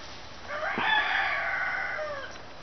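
A rooster crows once, a long drawn-out call at moderate distance in the countryside among hens, over a steady background hiss with no talking.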